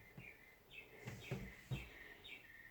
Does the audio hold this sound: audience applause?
no